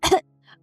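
A single sharp, loud cough, followed by a brief quieter throat sound, then near silence.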